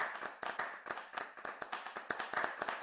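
A small online church study group gives a round of applause over a call, with quick, uneven hand claps repeating steadily for about three seconds at moderate, slightly distant volume and no talking.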